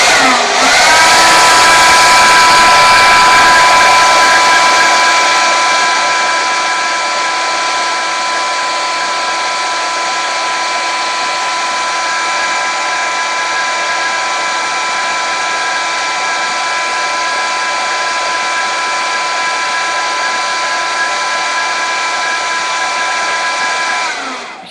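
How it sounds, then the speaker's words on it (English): A heat gun blows at full power while melting crayon wax, a loud steady whirring whine with a sharp start that settles into a constant tone and lasts the whole time. "we had trouble with the heat gun"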